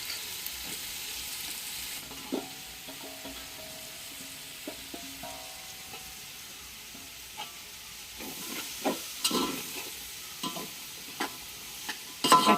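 Onions sizzling and frying in oil previously used for chicken, with occasional stirring scrapes and clinks, fairly quiet and continuous throughout.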